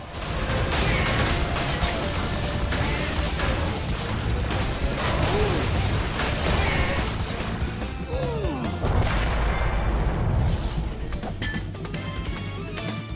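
Boss missiles exploding in Crash Bandicoot: Warped on PS4, with dense, continuous crashing blasts and mechanical clatter layered over game music throughout.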